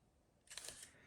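A Konica IIIa rangefinder film camera fires its leaf shutter once, a single crisp mechanical click that is close and clear, with no talking around it.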